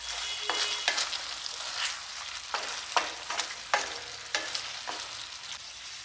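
Chicken curry cooked with coconut stirred in a pan: a steady loud sizzle with repeated scraping strokes of a spoon, close up and with no talking.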